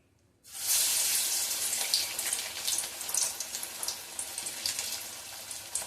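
Banana flower vada sizzling in hot oil over a low flame, a dense steady crackle and hiss that starts abruptly and carries on close and fairly loud, with no voices over it.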